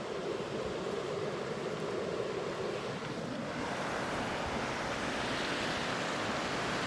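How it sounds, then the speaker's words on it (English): The fast-flowing, clear Moya River rushes as a steady broadband roar, close and continuous for about seven seconds with no speech. "the Moya is a fast-flowing, clear river"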